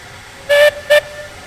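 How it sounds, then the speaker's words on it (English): A small steam locomotive in the Railroad Online video game gives two clear whistle blasts, a long one followed by a shorter one, over a quiet background with no talk. "Takes a minute to spool her up because it's just a little train"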